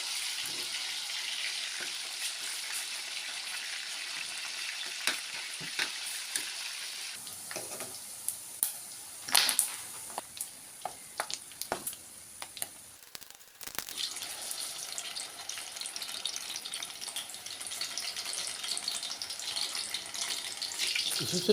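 Pork belly liempo frying in a pan for a simple pork binagoongan, a steady sizzling hiss with sporadic sharp pops and spatters, fairly faint and alone, swelling louder toward the end.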